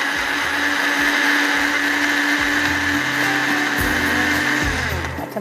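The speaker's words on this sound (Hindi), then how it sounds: "और जब ये ब्लेंडर चलेगा तो और भी ज़्यादा ही मज़ेदार हो जाएगा" An electric blender whirs loudly and steadily, blending pineapple with dry fruits for a dessert drink. The motor's whine runs unbroken from start to finish, with rhythmic low thumps of the contents churning inside the jar.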